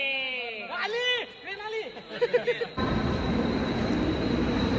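Voices talk at first, then a loud broadband rumble of a train arriving at a station rolls in and continues steadily, close and sustained.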